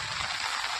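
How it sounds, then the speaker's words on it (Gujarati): Light, steady rain falls in a village on a July morning, a soft continuous hiss of drops with no distinct individual splashes and no other sounds standing out. "7:02 થઈ ગઈ છે અને વરસાદ શરૂ છે"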